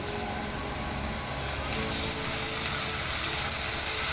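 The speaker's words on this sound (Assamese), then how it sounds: "পিঁয়াজখিনি প্ৰায় ভজা হৈছেই। এতিয়া আমি ইয়াতে আদা নহৰু কটাখিনি দি দিম" Onions sizzling steadily in a hot pan as ginger and garlic go in, a continuous close hiss that swells slightly partway through, with no talking.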